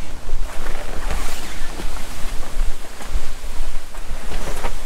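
Gusty wind on a windy day buffets the microphone outdoors beside a car, making a loud, continuous, rumbling roar that rises and falls in waves. No one talks.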